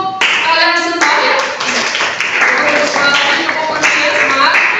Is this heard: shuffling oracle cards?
no